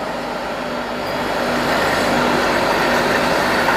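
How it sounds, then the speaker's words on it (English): A Francis turbine test rig in a lab running at a constant 1000 RPM with a brake drum arrangement, producing a loud, steady mechanical roar and hum that swells slightly and holds without pause, no voices. "in this machine, we maintain a constant RPM 1000."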